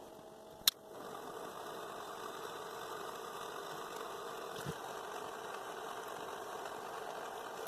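A vacuum pump's steady mechanical hum runs continuously at low level, marked by a sharp click near the start and a faint tap later.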